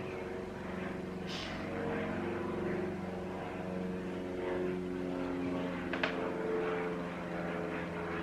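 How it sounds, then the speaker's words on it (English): An aeroplane passes over a house as a steady, fairly loud propeller-like drone with a low hum, holding level throughout with a couple of faint brief clicks on top. "As an aeroplane goes over the house,"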